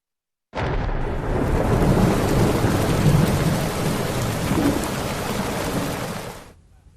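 Heavy monsoon rain in Veraval, Gir Somnath, Gujarat, flooding streets, roars in a dense, loud wash with deep rumbling underneath, starting abruptly and fading out at the end.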